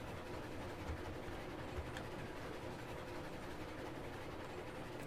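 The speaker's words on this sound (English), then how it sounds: "Just so we can get more of the engine noise, right?" Steam locomotive engine in the Railroads Online game, a steady low rumble and mechanical clatter running continuously at a quiet level with no voices.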